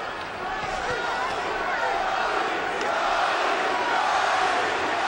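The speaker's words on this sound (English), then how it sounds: "Crowd begins to chant immediately for the love of their lives." A large boxing crowd roars and chants steadily in a big arena during the Arturo Gatti vs Jesse James Leija fight, a dense, continuous wall of voices throughout.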